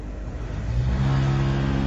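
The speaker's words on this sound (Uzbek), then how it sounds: "bu uchinchi motorimiz" A cold storage refrigeration motor running at a fruit and vegetable storage facility, a steady, loud low-pitched mechanical hum with a droning tone that rises slightly partway through.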